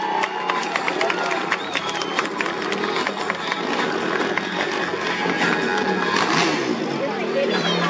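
A crowd at a motor show applauds and cheers, dense clapping and shouting spread across the whole stretch with a loud voice talking over it.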